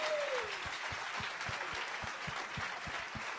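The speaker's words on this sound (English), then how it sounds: "let's just clap" A standing audience at a theme camp symposium claps together in a steady, even rhythm, roughly three claps per second, over a soft room hum.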